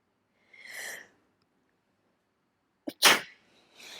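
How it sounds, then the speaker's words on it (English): A single loud, sharp sneeze bursts out close to the microphone after a soft inhaled breath, followed by a quieter breath in an otherwise silent room. "I was holding in that sneeze for ages because I knew it would be really loud on the microphone."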